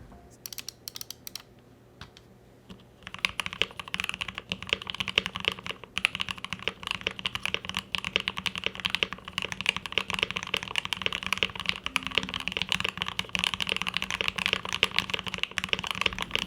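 Steady, fast typing on a KBD67 Lite R2 custom mechanical keyboard with switches installed, dense clacky keystrokes continuing throughout after a quieter opening few seconds, close and alone with no voices.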